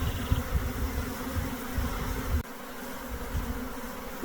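A honey bee swarm buzzes steadily at a hive entrance on the landing board, many bees fanning in a dense, continuous drone close by, with a slight drop in intensity partway through.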